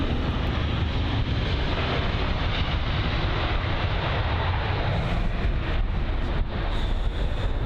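An Airbus A320-200 landing at London Heathrow with a slight bounce on touchdown, heard as a continuous broad engine roar mixed with wind noise on the microphone, loud and steady from start to finish.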